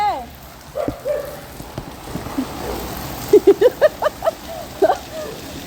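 Heavy rain during Typhoon Kristine hisses steadily outdoors, with a few short tapping drips and people talking nearby.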